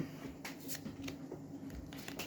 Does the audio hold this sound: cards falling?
yes